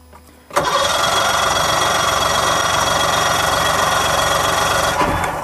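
A choked Starcraft engine with its fuel enrichment valve engaged catches abruptly after a brief quiet moment, then roars loud and steady close by for several seconds before easing slightly at the end.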